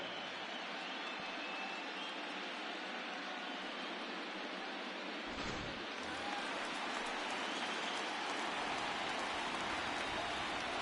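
Steady rain pours onto a baseball field during a World Series game between the Cubs and Boston, a dense, constant hiss that stays even and close throughout with no pauses.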